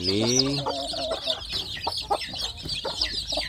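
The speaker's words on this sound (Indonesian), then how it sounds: "anak ayam kampung saya ini berkumpul ya sedulur, ini ramai sekali." Native Indonesian village chicken chicks, newly hatched, and hens chatter together, a busy mix of high peeping and lower clucking calls, close by and continuous.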